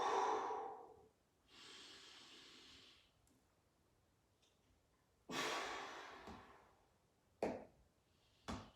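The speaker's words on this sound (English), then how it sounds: "Big breaths in. Slow breaths out." Slow, deep breaths during a full-body workout: several long inhales and exhales, close and breathy, separated by quiet pauses, with a couple of short sharp exhales toward the end.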